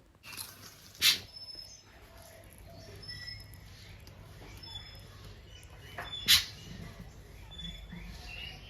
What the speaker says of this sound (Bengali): এর আওয়াজটা কীরকম এ দেখো এটা কোকিল কোকিল মনে হচ্ছে